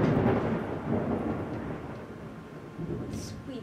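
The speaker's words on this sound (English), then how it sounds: "We don't do thunder." Loud, rolling thunder rumbles low and continuous, slowly fading over a few seconds, with no voices over it.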